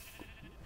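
A sheep bleats in Minecraft, one short, faint in-game bleat over a steady low background hiss.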